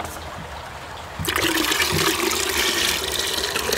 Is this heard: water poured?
yes